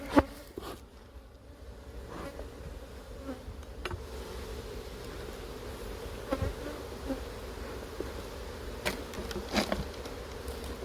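Honey bees hum steadily around an opened hive while it is being smoked and inspected, a dense continuous buzz with occasional louder passes of individual bees close by.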